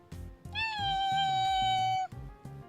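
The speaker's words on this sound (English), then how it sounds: "That was a high-pitched meow." A single long, high-pitched meow rises and holds for well over a second, loud and close, over a low rhythmic background music.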